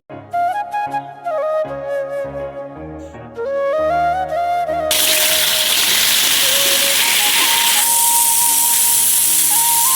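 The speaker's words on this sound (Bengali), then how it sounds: "আমি মাছ ভাজা বসিয়ে দিয়েছি।" Fish frying in a pan gives a loud, steady hiss that starts about halfway through, after a stretch of melodic background music that keeps playing faintly under the sizzle.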